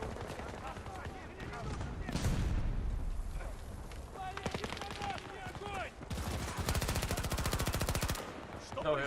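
Rapid automatic gunfire and bursts of shooting in the video game Battlefield 2042, loud and continuous with sharp repeated cracks, explosions and in-game voices mixed in.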